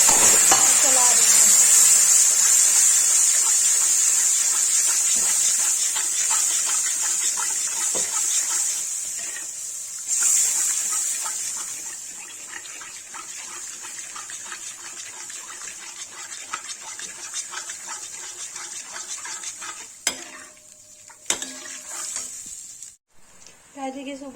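Red chili stirred into hot oil in a pan for Kashmiri dum aloo gives a loud, steady hiss that slowly eases off, with a few clinks of the pan near the end.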